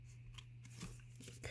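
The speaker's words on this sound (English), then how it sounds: "I'm just going to grab a pair of snips here and snip off the excess." Crafting snips trim excess cardstock from a handmade card: a few quiet, crisp snipping cuts close by in a hushed room.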